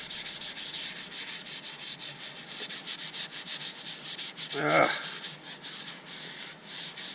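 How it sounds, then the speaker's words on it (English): Continuous rhythmic sanding on a wooden fruit bowl, a steady scratchy rubbing with repeated strokes and a brief louder scrape partway through. "It was a bit of a marathon sanding."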